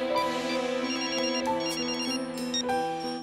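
A telephone rings with a melodic electronic ringtone, a repeating tonal phrase played loudly and close, in a scene from a Telugu-dubbed action film, with no speech over it.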